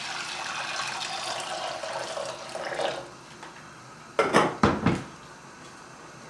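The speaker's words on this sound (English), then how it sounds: "Add the water into the pan." Water poured into a cooking pan for boiling rice in a home kitchen, a steady splashing stream for about three seconds, then a few sharp clanks of the pan, close and loud.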